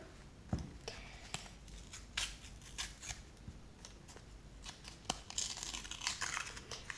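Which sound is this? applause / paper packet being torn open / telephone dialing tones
paper packet being torn open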